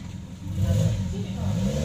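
A 2010 Suzuki Splash manual GL hatchback revs its engine in a steady mid-pitched drone that swells and holds, with people talking over it.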